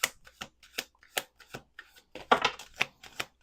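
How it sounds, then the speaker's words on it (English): Cards riffle and snap in quick, uneven bursts as a deck is shuffled up close, with crisp flutters separated by brief pauses. "We're going to do 2 more shuffles."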